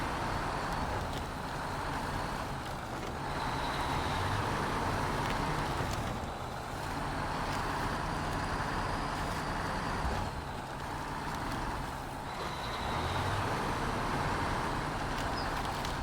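A heavy truck engine drones and labours continuously in the SnowRunner off-road driving game, a dense, steady roar with slight surges in load and no voices.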